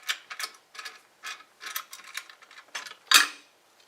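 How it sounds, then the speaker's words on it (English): A valve's main body clamp being removed, a series of close metallic clicks and ratcheting ticks in short, uneven bursts, ending in one sharper, louder clack. "Next, remove the main body clamp."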